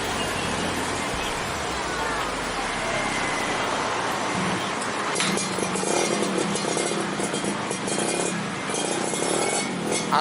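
A modified Yamaha F1ZR two-stroke motorcycle idling and revving nearby, a buzzing exhaust that grows rougher and louder midway, with people chatting in the background.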